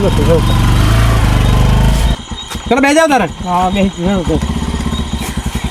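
Motorcycle engine runs loud and steady close by, then cuts to rougher revving pulses while people shout and talk over it in a Gujarati comedy chase scene.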